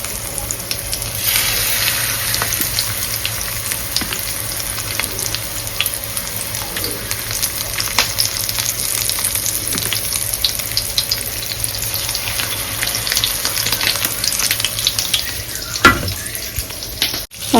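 Pieces of vanjaram (seer fish) fry in a pan with a steady, close sizzle and crackle that runs unbroken for the whole stretch, with no voices.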